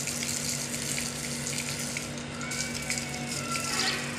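Water gushes from a hose pipe outdoors in a continuous, even splashing rush with a faint steady hum underneath, and no voices are heard.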